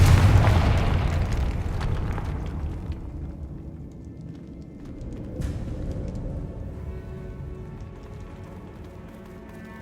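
Confringo fire spell blast in the Hogwarts Legacy video game, a loud, heavy explosive boom at the start that fades into a long rumbling decay with a sharp crack partway through, and no talking.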